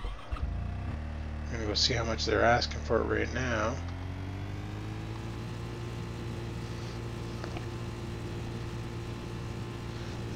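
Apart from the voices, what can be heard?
tractor engine in the video game Farming Simulator 2013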